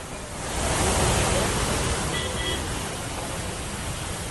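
Fast floodwater rushes after a cloudburst near Dehradun, a broad, loud roaring surge that swells early and then continues steadily.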